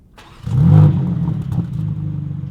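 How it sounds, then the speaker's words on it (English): A 2025 BMW M3 CS Touring engine cranks and fires up, flaring sharply in a loud rev before settling into a rumbling idle. "That, to me, is a very distinctive CS startup sequence. It revs a little bit harder."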